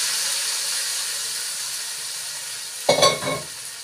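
Hot tadka tempering poured into simmering kadhi for pakora kadhi, giving one sudden loud sizzle that hisses and fades within a second, over a steady low stove hiss.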